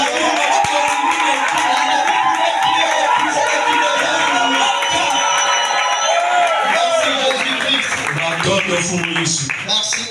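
A church congregation loudly cheers and acclaims a man, a dense wall of voices and clapping that holds steady throughout and fades slightly near the end.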